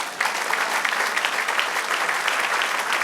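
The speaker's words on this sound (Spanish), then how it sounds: "Dale un aplauso al Señor." Congregation in a church service breaks into steady, sustained clapping that fills the room at an even level throughout, with no voices rising above it.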